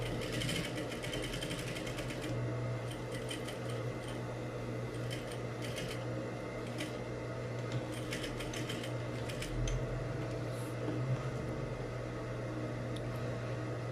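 A sewing machine stitches fabric for a double-welt buttonhole pocket, giving a steady mechanical hum and continuous fast clatter throughout, with brief ticking accents and no talking.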